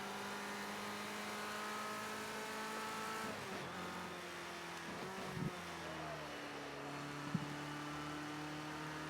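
Ford Escort RS1600 engine in Project CARS 2, droning steadily at high revs, then dipping and recovering as the throttle is lightly feathered, with a couple of brief knocks; the engine tone continues throughout.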